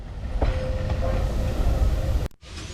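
A heritage train with hopper wagons and carriages rolls past at a rail museum live day, a loud close rumble of wheels on track with a brief tonal squeal, cutting off abruptly near the end.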